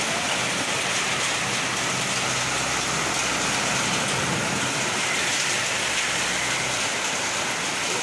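Hailstones hammer a roof during a windy storm in Kampung Sawah, Bekasi, a loud, continuous roar of hard drumming impacts that holds steady from start to finish.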